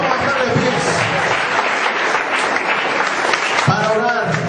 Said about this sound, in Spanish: Vamos a brindarle un fuerte aplauso a Jesús